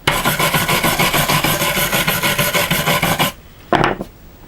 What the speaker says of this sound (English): we'll try a wire brush on it first